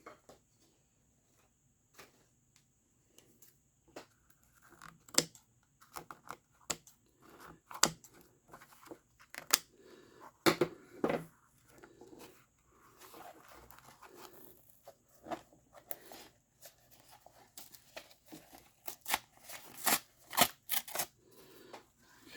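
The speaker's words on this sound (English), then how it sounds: "And I did bring scissors." Scissors snip through the pages of a small sketchbook in scattered, crisp cuts with paper rustling between them, close and fairly quiet.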